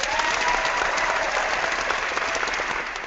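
Applause from a group of online chat participants at the close of a session, a dense steady patter of many hands clapping throughout, fairly loud and continuous with no talk over it.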